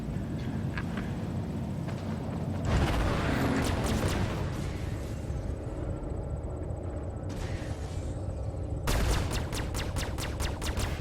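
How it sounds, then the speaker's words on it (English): Spaceship cannons fire during a Star Citizen dogfight: loud, dense bursts of booming shots that roll over one another, then a pause, then a fresh rapid volley near the end. "Parasite's got 3 cannons and 1 laser."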